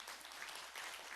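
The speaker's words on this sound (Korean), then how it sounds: "박수 치려면 다 같이 칩시다" A church congregation claps together during a Sunday sermon, a brief, fairly faint burst of applause that stays even throughout with no talk on top.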